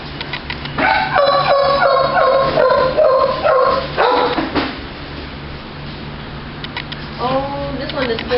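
A dog barks and yips repeatedly in a yard, loud and close, with bursts of barking separated by short pauses and a whimpering tail near the end.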